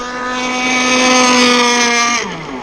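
A Zippkits SLR Thunderboat RC boat runs on the water with a loud, steady high-pitched motor whine, which then drops in pitch as the throttle eases off near the end.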